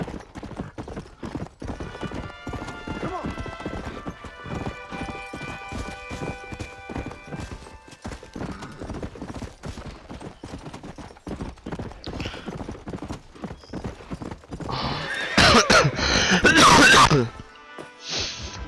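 A horse in Red Dead Redemption, heard as steady, rhythmic hoof clip-clops at a fast riding pace throughout, with a louder burst of game sound near the end.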